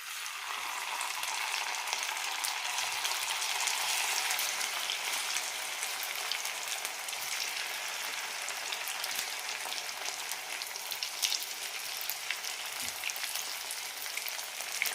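Marinated chicken 65 pieces deep-frying in hot oil, a steady close crackle and bubbling sizzle that stays even and unbroken with no talk.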